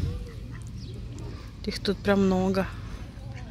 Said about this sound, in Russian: Утки на зимовку прилетели.